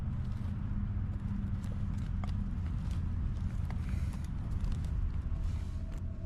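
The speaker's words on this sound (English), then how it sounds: "somebody's walking around out there very close to the tent" Footsteps of someone walking around outside a tent while camping, a continuous run of close, heavy treading steps against a constant rough background rumble.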